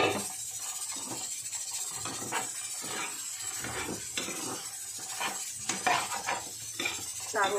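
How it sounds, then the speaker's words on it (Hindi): Metal clinks and scrapes as the lid of a pressure cooker is fitted and shut in a home kitchen, a series of sharp close knocks and rattles over faint background hiss. "कुकर के ढक्कन अब बंद करती हूँ मैं"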